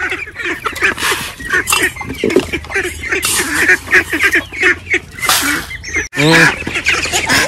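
Several ducks being fed paddy quack busily and repeatedly close by, an excited flurry of overlapping calls.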